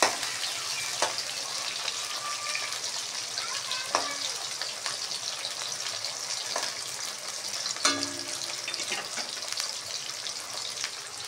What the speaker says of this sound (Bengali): এবার আমি এগুলো ভেজে নেব।